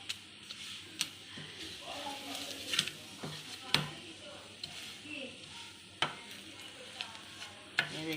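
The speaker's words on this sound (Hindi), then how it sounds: "अब मैं इसको थोड़ा सा दोनों चम्मच के साथ ऐसे करूँगी ताकि इसकी ये लेयर नज़र आए।" A lachha paratha sizzles softly in a pan over low heat while two spoons scrape and tap against it, giving sharp intermittent clicks over a quiet, steady frying hiss.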